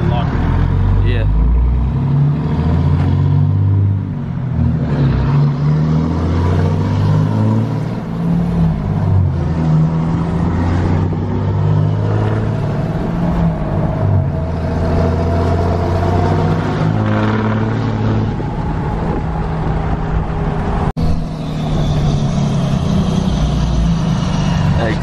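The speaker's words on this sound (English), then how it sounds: "Exhaust brake loud as hell." Manual 4th gen Cummins diesel pickup truck with its exhaust brake engaged, a loud low rumbling drone that rises and falls in pitch over long stretches, with people talking over it at times.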